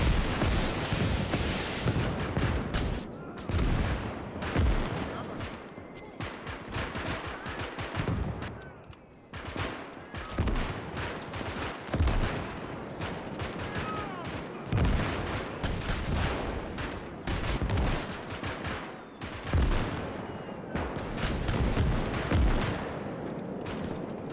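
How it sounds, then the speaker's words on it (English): Artillery shots and rocket blasts fill a trench battle in the Winds of Iron 1920+ mod, with dense, repeated booms and crackling gunfire going off in close succession throughout. "Those artillery shots are just awesome to catch"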